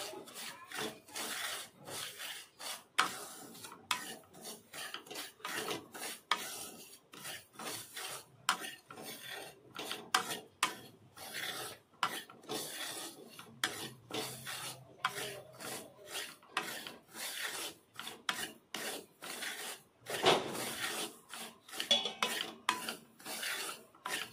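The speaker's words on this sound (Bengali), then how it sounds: "সুজিটা হালকা আঁচে ভেজে নেব।" Dry semolina being roasted over low heat in a hot wok, stirred in quick repeated scraping strokes that rasp against the metal in an uneven rhythm, close and fairly soft, with no talking.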